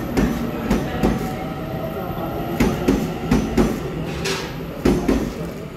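A Taiwan Railway EMU900 ten-car electric multiple unit, silver and green, departs as a local express, rumbling steadily with rhythmic wheel clicks over rail joints and a faint high whine, close and loud with no talk.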